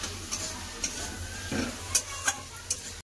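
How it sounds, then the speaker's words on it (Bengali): Ground spices such as coriander, cumin, chilli and turmeric frying in oil for chicken ghugni, a soft steady sizzle with occasional scrapes and clicks of stirring, quiet and close. "লঙ্কা গুঁড়ো, কম করে হলদি গুঁড়ো। সব মশলা ভালো করে কষে নেব।"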